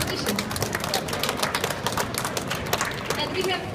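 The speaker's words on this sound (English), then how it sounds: "let's cheer Alexei and wish him all the best in the competition" An audience at the Tea Masters Cup International 2015 claps for tea competitor Alexei, a dense run of quick, crisp hand claps throughout, mixed with a voice speaking over the crowd.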